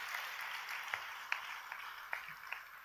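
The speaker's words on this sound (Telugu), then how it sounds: "చప్పట్లు కొట్టండి, గట్టిగా" Faint, distant clapping from a gathering, a soft wash of hands with a few sharper individual claps standing out irregularly.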